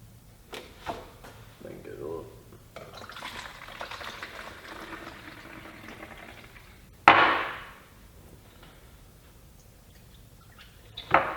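Detailing liquid poured into a 4-ounce bottle: a gurgling, trickling pour for a few seconds, followed by a sharp plastic clack and a fading rattle, close and fairly quiet.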